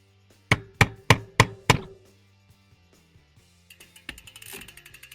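A crank arm comes off a Trek Slash 7 mountain bike with five loud, evenly spaced knocks close by, followed by a scatter of faint clicks and light metallic rattles.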